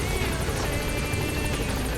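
Pequod helicopter arriving in the video game Metal Gear Solid 5, its rotor beating in a fast, steady thump with a buzzing engine whine, loud and close throughout.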